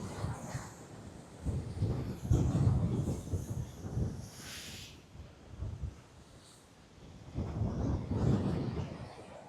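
Heavy ocean swells surging and crashing against the rocks at Portland Bill in Dorset during Storm Bram, deep rumbling waves rolling in repeatedly amid gusting wind buffeting the microphone.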